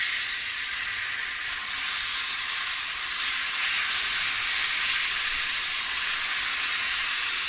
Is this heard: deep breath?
no